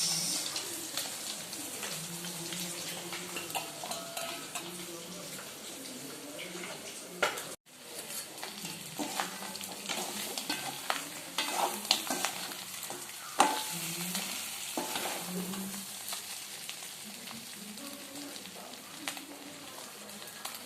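Country chicken roasts in a pan with a continuous dense sizzle and scraping stirs, a brief cut near the middle, and someone talking intermittently over the cooking.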